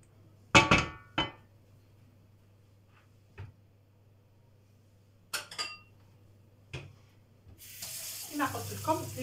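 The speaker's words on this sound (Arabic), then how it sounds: "زدت له نص كاس تاع الماء" Water is poured into a red tomato-concentrate sauce with meat, a brief splashing pour near the end that follows a few scattered kitchen knocks and clinks in a quiet room.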